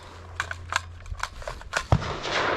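M4 rifles fired at a U.S. Army qualification range in Germany: scattered sharp reports, some distant and some nearer, at irregular intervals over steady background noise.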